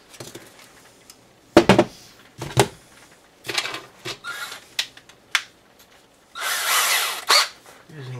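A power drill with a smaller starter bit runs in short bursts while positioning for a bolt hole, several brief whirring pulses separated by pauses and light handling clatter, ending in a longer steady run.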